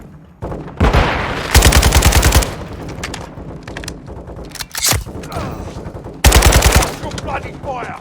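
Gunfire fills a Modern Warfare II campaign battle: loud bursts of automatic fire in several rapid volleys, with single sharp shots between them over a steady background of combat noise.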